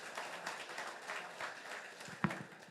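Audience applause at a Telugu business training program speech, a steady, fairly faint wash of many hands clapping that holds evenly throughout with no voice on top.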